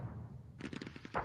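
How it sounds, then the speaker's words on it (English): Gunfire sound effects from the Glory and Empire wargame app play as a quick burst of several faint rapid shots followed by one slightly louder report, distant and muffled in the background. "You can hear gunfire and all that in the background."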